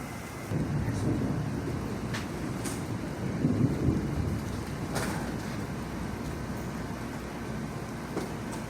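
A storm on a rural property: steady rain and wind noise fill the air while low thunder rumbles faintly in the distance, with a few sharp crackles over the continuous wash.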